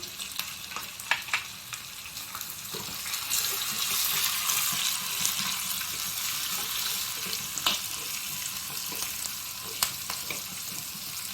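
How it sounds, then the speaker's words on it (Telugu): Ginger and green chillies fry in hot oil for a tempering, giving a continuous crackling sizzle with occasional ladle clicks and stirring, steady and close with no talk. "ఇలా అల్లము పచ్చిమిరపకాయలు వేగిన తర్వాత పోపు వేసేసుకోవటమే"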